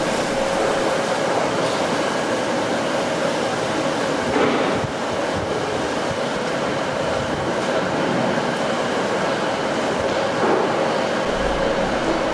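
Loud, steady rumble of a train standing at a station platform, with a constant mechanical drone and occasional faint clanks, close by and unbroken, no voices.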